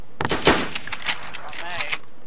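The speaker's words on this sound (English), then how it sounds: "Who the fuck is shooting with the sporter?" Rapid rifle gunfire from a sporter rifle in a multiplayer shooter game on an island map, a quick burst of sharp cracks mixed with players talking.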